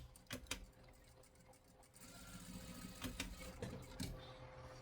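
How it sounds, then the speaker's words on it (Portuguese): A sewing machine stitching a plush sheep toy, its soft rapid needle clatter running through in quiet uneven bursts, close but faint with no voices. "Eu vou costurar a minha agora."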